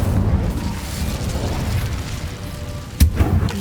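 Incendio fire spell cast in Hogwarts Legacy, a low rumbling whoosh of flame that sustains through the clip, with a sharp burst near the end over game ambience.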